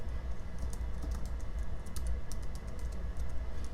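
Computer keyboard keys tapped in a steady run of soft, close clicks as a password is typed, with no voices.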